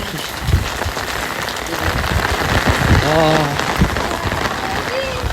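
Steady heavy rain pattering on a surface, loud and continuous, with a faint whistle-like tone and scattered background noises.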